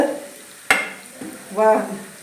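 Onions, shallots, curry leaves and garlic fry in a pan with a soft steady sizzle, interrupted by a sharp scrape of a spoon stirring and a brief metallic clink near the end.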